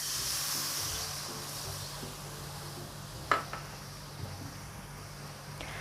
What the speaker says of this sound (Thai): และเราก็จะตามด้วยในส่วนตัวกุ้นเชียงค่ะ ลงไปทอดเลยนะคะ